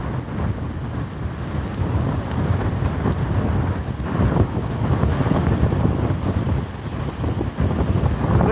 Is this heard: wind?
yes